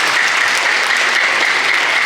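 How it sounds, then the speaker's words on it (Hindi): A studio audience at a comedy show breaks into loud, sustained applause, a thick and even burst of clapping with no voices over it. "एक बार जोरदार तालियां इनके लिए होनी चाहिए"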